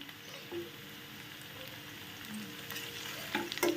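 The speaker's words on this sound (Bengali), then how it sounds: "রসুনটা একটু ভাজা ভাজা হোক" Julienned garlic frying in a pan for a Bengali chechi shaak, a quiet steady sizzle with faint stirring scrapes, growing a little louder near the end.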